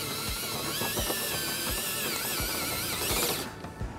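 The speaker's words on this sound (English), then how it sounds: "Now to enlarge that hole, we're going to use a step bit." A drill driving a step bit to enlarge a hole in the steel frame of a 2009 Hyundai Elantra, a steady high whine with grinding and rhythmic ticks, stopping abruptly near the end.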